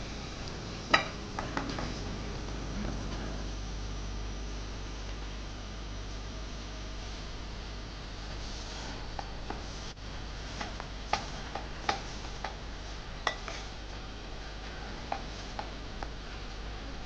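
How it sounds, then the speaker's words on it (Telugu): Thin vermicelli fries and gets stirred in a pan over a low flame, a steady soft sizzle with scattered light ticks and scrapes of a utensil against the metal, fairly faint and with no talking. "జాగ్రత్తగా ఫ్రై చేసుకోండి, మంటని లో ఫ్లేమ్లోనే పెట్టుకోవాలి, లేదంటే మాడిపోతాయి."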